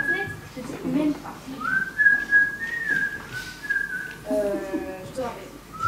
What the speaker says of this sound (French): il y a un imbécile qui est en train de siffler à ma fenêtre